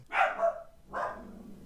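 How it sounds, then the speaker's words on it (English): A dog barks somewhere near a podcast recording, with two quick barks and then a third after a short pause, fairly faint and otherwise alone. "That's a dog."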